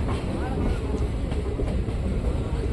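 Train rolling on rails through the Shiradi Ghat mountain section during a monsoon journey, a steady close rumble with faint rhythmic clatter of wagons running continuously.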